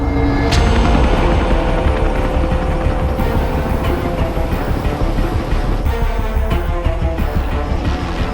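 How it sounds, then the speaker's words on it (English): A helicopter's rotor roars steadily throughout, loud and close, with a dense low thumping drone and occasional sharper bangs over the top. "This is a third chopper coming in."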